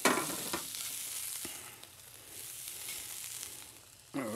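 Shrimp sizzle in a hot pan over spinach, a steady crackling hiss with a couple of faint scrapes, fairly quiet and heard alone.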